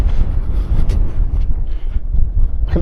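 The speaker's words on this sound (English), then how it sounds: "can actually hear the wind on the flipping camera" Gusty wind buffeting a camera microphone outdoors on top of a tumulus on a heath, a loud continuous low roar that swells and dips throughout with no talk.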